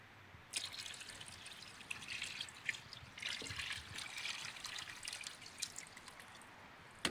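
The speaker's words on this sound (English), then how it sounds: "So I'll pour the pulp in here." Water trickles and splashes steadily as a thick paper pulp slurry is poured into a mesh mold, with dribbling and small drips continuing throughout, close and fairly quiet.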